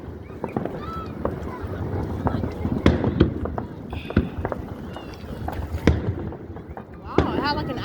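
Fireworks at a show in Antioch, California burst in a string of sharp, distant booms and crackles spread across the span, with excited spectators talking over them and wind buffeting the microphone.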